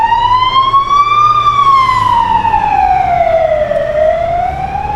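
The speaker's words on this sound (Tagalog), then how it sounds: "Ambulansya." A loud wailing ambulance siren rises and falls slowly in pitch, steady and close, with a faint rumble of traffic underneath, in Hungary.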